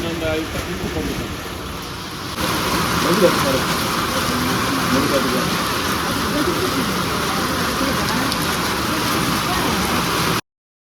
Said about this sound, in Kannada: ಜೋರ್ ಮಳೆ ಗೈಸ್